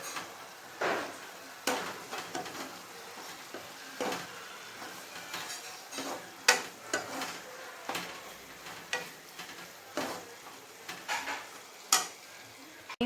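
A spoon scrapes and stirs a thick jaggery mixture in a pan over low heat, with repeated rhythmic scraping strokes and a faint sizzle, close and fairly quiet.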